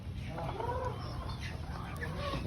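Chickens cluck and call at feeding time in a run, several birds overlapping in a steady, close chorus over a constant background hum.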